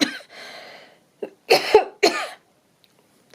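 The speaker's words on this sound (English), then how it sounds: "Sorry about the cough." Someone coughs several times in quick bursts, close and fairly loud, with a throat-clearing rasp between short pauses.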